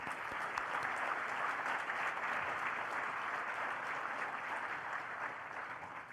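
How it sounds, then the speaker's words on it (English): An audience applauds steadily at a large assembly event, a dense continuous wash of clapping that holds evenly from start to finish and tapers slightly at the end. "Please join me in another round of applause thanking the RPA team."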